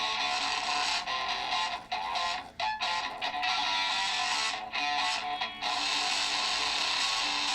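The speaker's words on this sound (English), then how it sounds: "So our guitar sounds like this." Guitar recording run through an audio plugin with loudness pushed far too high, giving a dense, harsh, saturated distortion that plays continuously at close range with a few brief dips, and no one talking.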